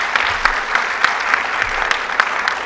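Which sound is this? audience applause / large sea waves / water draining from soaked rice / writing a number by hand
audience applause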